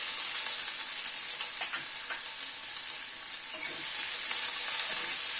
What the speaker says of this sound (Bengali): পেঁয়াজটাকে গ্যাসের ফ্লেমটাকে মিডিয়ামে রেখে পেঁয়াজটাকে হালকা করে আগে ভেজে নিচ্ছি